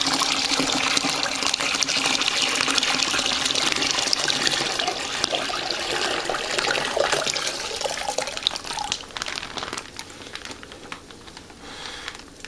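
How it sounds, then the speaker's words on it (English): Warm water pours steadily from a bag into a wine-making fermenter for a Fontana Malbec kit, a loud continuous splashing gush that gradually thins and tapers toward the end. "I put some warm water in this bag and I'm going to pour that"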